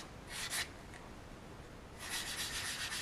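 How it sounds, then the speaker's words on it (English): Fine sanding along the mold line of a resin figure model: two short bursts of soft, hissy rubbing strokes near the start, then a steadier run of scratchy strokes at the end, close and fairly quiet. "Now I'm going to go ahead and sand the rest of this mold line away."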